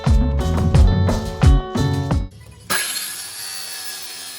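A handsaw rasps through a wooden board being cut down for an outdoor bar countertop, with about six loud, close, rhythmic strokes followed by a brighter, steadier scrape as the cut ends.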